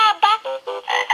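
Toy frog croaking in a steady series of about six close, loud, nasal croaks with short gaps between them, heard alone with no other sound.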